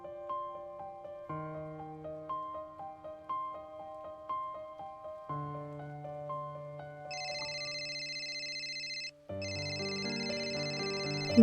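A phone rings with a melodic electronic ringtone, clean repeating tones that change pattern partway through with a short gap, loud and alone.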